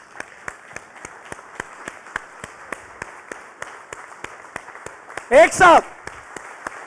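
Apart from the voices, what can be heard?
audience applause at awards ceremony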